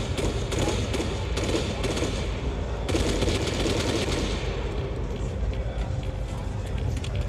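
Rapid automatic gunfire from the Arma 3 video game, sustained bursts of shots, somewhat distant and moderately quiet, with a voice talking over them.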